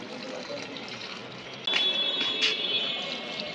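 Rainwater pouring in through a hole bored for an air-conditioner pipe makes a steady, close watery rush, which grows louder and fuller partway through and then keeps going without pause.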